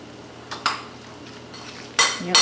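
Latke batter of flour, salt and baking powder stirred in a bowl: a few scraping, clinking strokes of a utensil, then a louder clatter near the end, close and with no talk.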